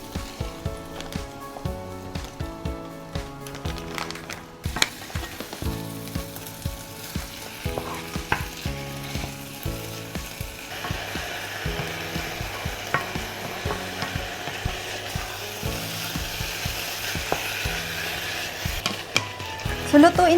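Around 750 grams of beef for chilli con carne frying loudly and steadily in a pan, with repeated scraping and stirring strokes over a continuous sizzle throughout.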